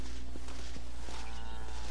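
Cattle on a ranch in Red Dead Redemption, a low moo rising over a steady rumble of hooves and herd noise, fairly close and with no voices.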